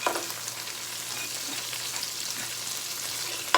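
Spaghetti sauce in a pan simmers with a steady, close sizzle and bubbling crackle while seasoning gets stirred through, soft scrapes coming and going, no talk.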